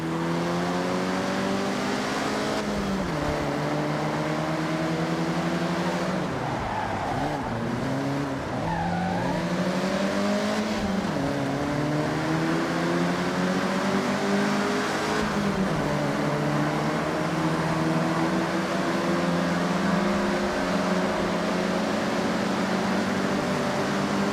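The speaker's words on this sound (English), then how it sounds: "Honda to produce its sportier model seen driving with us right now, the Honda Civic RS" Honda Civic RS car in the Forza Horizon racing game, its engine revving and shifting through gears continuously, with tire squeal during hard cornering and steady loud engine drone throughout.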